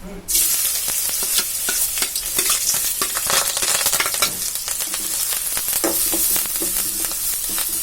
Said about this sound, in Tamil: அதை மட்டும் போட்டு நல்லா பொடி பொன்னிறமாக வதக்கி விடுவோம்.